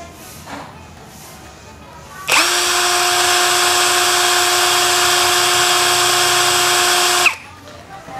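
A Nagawa cordless brushless impact drill runs at speed setting 2, starting abruptly into a steady high-pitched whine for about five seconds and then cutting off, loud and close.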